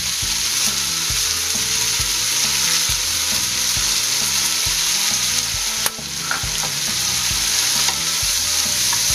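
Salted french fries frying in oil and stirred continuously, a loud, steady crackling sizzle with a regular pulse of stirring strokes and one sharp knock midway, heard up close with no talk.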